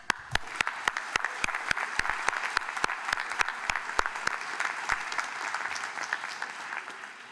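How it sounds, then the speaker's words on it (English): A graduation ceremony audience applauds the class of 2026 in a large hall, with a wash of many hands and sharp individual claps standing out at a quick, irregular pace before thinning toward the end. "let's give everyone a big applause."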